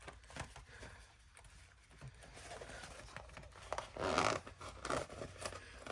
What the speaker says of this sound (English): go ahead and reach in here and finish opening your zipper